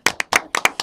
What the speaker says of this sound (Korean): 박수 제가 한번 치고 가시죠.